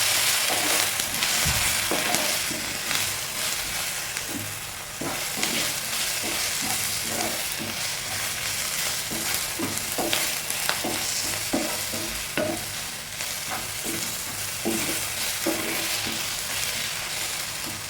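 Fish biryani masala being stirred and fried in a pan: steady sizzling hiss with repeated scraping strokes of the spoon throughout, close and fairly loud, with no talking.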